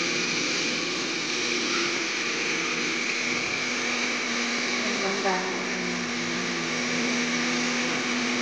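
A blender grinds ginger with a loud continuous motor whine and churning, close up and steady throughout, with faint speech beneath.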